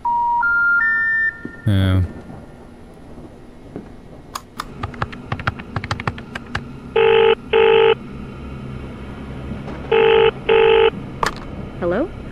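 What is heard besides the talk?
telephone ringing in a haunted house video game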